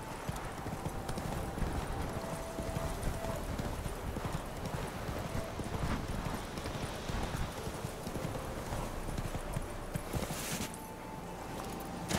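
Horse hooves clip-clop steadily at a galloping pace across the whole stretch in The Witcher 3 video game, loud and close, with a brief whinny and faint ambient sound around the hooves.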